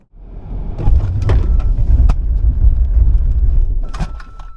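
A Mercedes-Benz EQE SUV roars loudly at close range during a hard braking test, with steady road and engine noise, rising and then tapering near the end as it slows.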